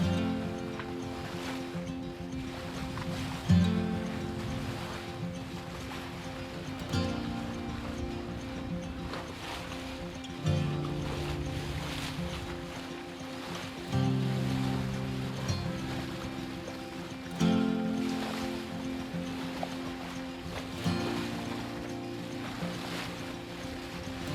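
Water washes rhythmically against the hull of a sailboat under sail between Malta and Sicily, gentle swells surging every few seconds over steady wind and creaking boat noise.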